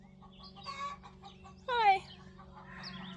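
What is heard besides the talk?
chicken clucking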